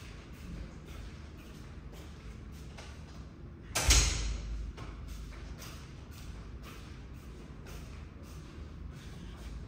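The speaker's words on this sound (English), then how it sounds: "I just want to close the door because it's very noisy." A door closes at home with a single sharp thud and rattle in the middle, standing out from a quiet background of faint shuffling and soft taps.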